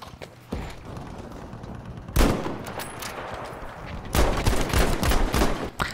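Video game gunfire in Battlefield 5, with a revolver in play: sharp, loud bursts of repeated shots in two clusters, close and punchy, with rapid cracks over a busy background.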